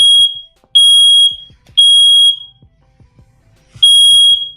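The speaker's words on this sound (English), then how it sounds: "It's so smoky, my fire alarm's going off." A smoke alarm sounds in loud, piercing tonal bursts, four long beeps separated by short gaps, with no talk over it.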